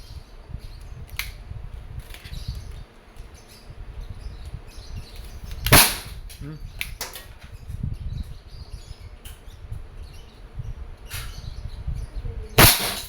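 A Crosman SNR 357 dual-ammo short-barrel airgun revolver fires a few sharp, snappy reports. Two are loud and distinct, spaced several seconds apart, and fainter clicks fall between them over a low outdoor background.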